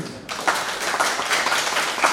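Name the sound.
audience clapping for children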